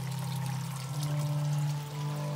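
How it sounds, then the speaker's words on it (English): A waterfall rushing just outside a window, heard as a continuous pouring, splashing wash with a steady low hum running underneath, constant and unbroken, no voices. "Right next to the waterfall here."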